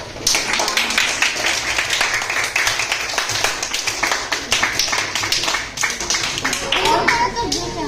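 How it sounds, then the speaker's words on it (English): An audience at a school Teachers' Day celebration claps loudly and continuously, with a crisp, dense patter of many hands lasting the whole stretch. Faint voices mix in near the end. "give a big round of applause to her"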